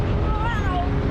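A cartoon cat in a Hindi animated comedy lets out a single short, wavering meow over a busy background of music and effects.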